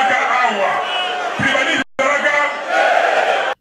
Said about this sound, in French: La foule répond non.